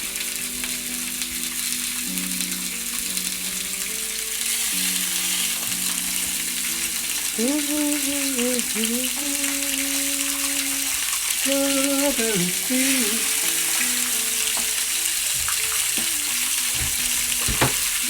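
Mackerel stuffed with rhubarb fries in a pan, giving a continuous hiss and sizzle under a soft musical melody.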